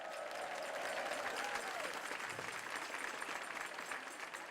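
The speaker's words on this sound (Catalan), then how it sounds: "M'agradaria demanar un fort aplaudiment" Applause from an audience at a Catalan local television event honouring new town council members, a steady broadband wash of clapping lasting throughout, with faint voices and a whoop mixed in.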